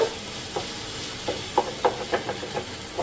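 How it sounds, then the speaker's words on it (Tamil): Masala for a pepper prawn gravy sautés in a pan with a soft steady sizzle, broken by a series of quick scraping stirs, close and moderately loud. "நல்லா மசாலா சுருண்டு வர வரைக்கும் நல்லா வதக்கிக்கோங்க"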